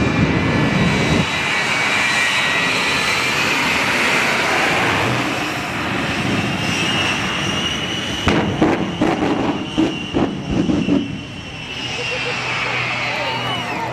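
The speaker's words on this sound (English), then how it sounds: "All right, the Red Bull Extra, flown by Kevin Coleman, Louisiana guy" The Red Bull Extra aerobatic plane at the New Orleans airshow, its engine roaring loudly and shifting pitch as it passes, followed by a burst of sharp crackling pops, with crowd voices around.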